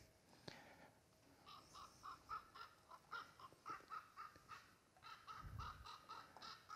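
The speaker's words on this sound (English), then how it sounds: "So you hear a raven calling like mad here." A raven calls over and over in harsh, evenly spaced caws from a recorded playback, moderately distant with a faint hiss underneath and no talking.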